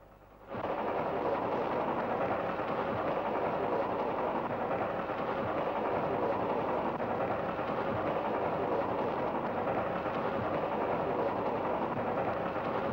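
A steam train rolls in on the old frontier rails, a loud, steady rumbling roar that swells in within the first second and then holds thick and continuous close by, with no voices over it.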